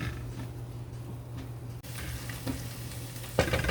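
Food frying in a pan for a chicken casserole, a steady close sizzle running throughout with a louder burst of crackling near the end; no talking.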